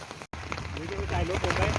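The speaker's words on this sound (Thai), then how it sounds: "โอ้ยฝนตกแรงมาก" Heavy rain pours down steadily on an outdoor fishing spot, a constant close hiss under someone talking loudly throughout.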